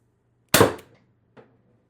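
A Mercury Rise Torpedo airgun fed from CO2 fires a single sharp, loud shot, followed about a second later by a faint short click, close by with no talking.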